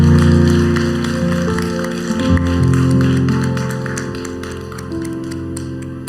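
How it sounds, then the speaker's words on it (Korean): A church congregation at a Friday prayer meeting claps steadily together, the applause layered over sustained keyboard music. "우리 박수로 하나님께 감사와 영광을 돌립니다."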